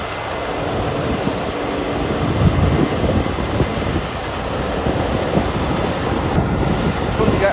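Strong wind gusting across an open farm field during an oat harvest on a hot day, a steady broad roar buffeting the microphone with no talk.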